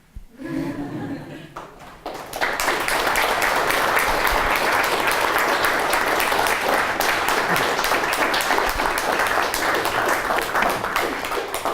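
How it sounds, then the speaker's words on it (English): A lecture hall audience applauds hard and long at the end of a professor's final lecture, dense steady clapping that swells in after a brief quiet start and holds loud for about ten seconds. "Everybody who applauded hard gets 2 extra points."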